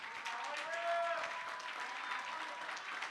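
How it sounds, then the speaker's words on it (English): Audience applause for the elders at a church gathering, a steady wash of clapping, moderately distant and fairly quiet, with faint voices mixed in throughout. "Round of applause."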